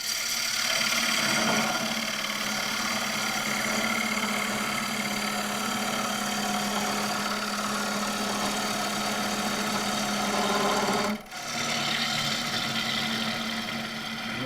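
Wood lathe turning a piece of very dry, highly figured English walnut, a steady close motor hum and whir with a continuous mechanical drone, a brief dip near the end, no talk.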